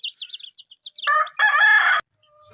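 Rapid high chirps and peeps from chicks under a brooding hen, followed by louder clucking and squawking from the hen close by, then silence.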